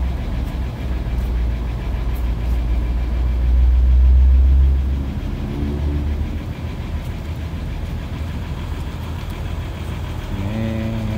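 Batu Palas intercity bus engine idling, a steady low rumble with a brief swell in the middle, heard up close with no talk.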